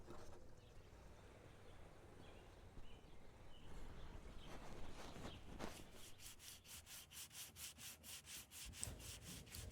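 Rough hand sanding of a canoe hull surface while prepping for a bow and stern skid plate, a steady close scratchy rubbing that turns into fast rhythmic back-and-forth strokes in the second half, with no talking.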